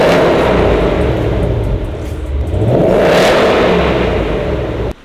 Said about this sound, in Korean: 배기 듣고 가실게요.